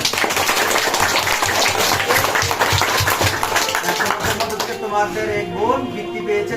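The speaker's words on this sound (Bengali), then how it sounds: "তাকে আমরা সকলে করতালির মাধ্যমে আমরা তাকে উৎসাহিত করি সকলে করতালি" A prize-giving audience claps together in dense, sustained applause for several seconds; the clapping then thins out as voices and other sounds take over near the end.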